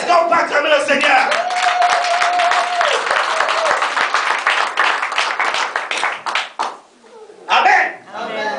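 Church congregation at a worship seminar clapping and cheering the Lord, a loud sustained burst of applause mixed with voices that fades briefly near the end, then swells again.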